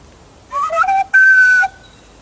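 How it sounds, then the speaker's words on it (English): A person whistles a short tune, a few quick rising and falling notes followed by one long sustained note, loud and close, with no talking. "I have my own little whistle,"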